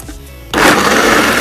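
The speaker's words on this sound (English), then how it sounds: "We cover back the blender, and we press on." A blender starts up suddenly and runs at a loud, steady whir while blending almonds and honey into almond milk, after a brief quiet moment.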